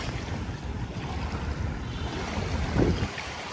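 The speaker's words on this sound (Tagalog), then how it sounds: "Malakas ang hangin, kaya pagpasyansyahan nyo naman kung ang kuha natin ay maingay." Strong wind blowing on a Manila Bay beach, a constant rough rumble buffeting the microphone with surf and water noise beneath, swelling briefly near the end.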